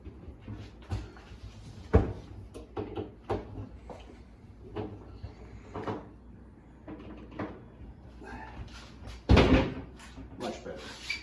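A boat's door being worked on, swung open and shut repeatedly, giving a series of close, sharp knocks and thuds with one louder slam near the end, while people talk quietly in between.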